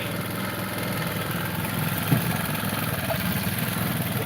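A John Deere lawn mower runs steadily at a mid-pitched engine drone, close and continuous, with a brief bump partway through and no voices.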